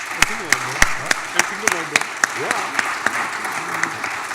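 A conference audience claps for an education panel, sparse, distinct claps spaced out in a loose rhythm at moderate volume, while voices talk underneath.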